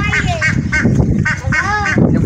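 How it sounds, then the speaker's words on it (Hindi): A duck quacks repeatedly in quick, nasal bursts, close and loud over a noisy background. "ये बत्तख भी ले आए"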